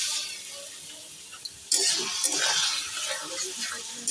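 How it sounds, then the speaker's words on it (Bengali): Chopped garlic and ginger hit hot oil for home-style chili chicken, a broadband sizzle that jumps up sharply midway and keeps crackling steadily with small stirring clatters. "প্রথমে তেলের মধ্যে দেব রসুন আর আদা কুচিটা।"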